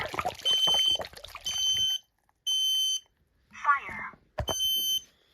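A hardwired smoke detector's recorded voice alarm calls out "fire" in loud bursts alternating with piercing electronic beeps, repeating several times with brief gaps, one burst broken by a splash of water.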